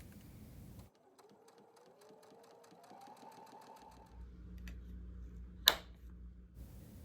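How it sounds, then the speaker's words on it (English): A sewing machine stitches quilt squares together in a quiet room, giving a rapid, steady run of ticking stitches that speeds up and then stops, followed by a sharp click. "we are just straight sewing a bunch of squares together and putting those together."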